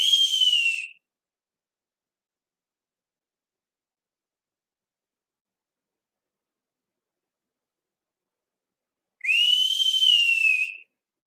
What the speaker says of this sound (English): That's the whistle I'll use if you ever get lost.